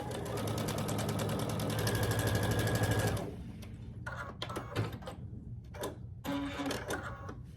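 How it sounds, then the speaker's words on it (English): A sewing machine stitches a quilt block in a fast, steady whirring run, then stops, leaving scattered handling clicks and rustles of fabric nearby. "sew down this line, this side"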